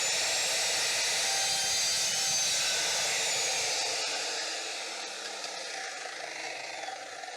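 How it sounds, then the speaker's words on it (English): Cold cut saw cutting PVC pipe at a workbench gives a loud, steady, high-pitched whine with hiss that slowly winds down and fades toward the end. "I've got this cold cut saw that I keep on a draw slider underneath my bench"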